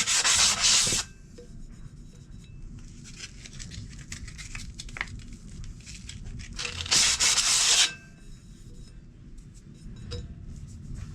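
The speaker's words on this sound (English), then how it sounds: "I'm just grabbing some 240 bit sandpaper. I'm just going to go around the edges just to kind of roughen that up a little bit." 240 grit sandpaper rubbing around the edges of a front brake part from a 1960 Panhead motorcycle, two close, brisk bursts of scratchy sanding separated by quieter handling noises and faint clinks.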